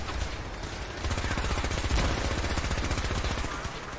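A gatling laser in Fallout 4 fires in a rapid, unbroken stream of buzzing shots, loud and sustained for several seconds with a brief lull at the start.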